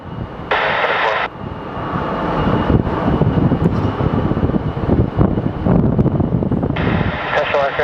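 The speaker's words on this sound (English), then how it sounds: "Here comes our little A319" Airbus A319 airliner passing at Sky Harbor Airport, a loud engine roar and whoosh swelling across several seconds with wind buffeting the microphone and brief bursts of radio chatter at the start and end.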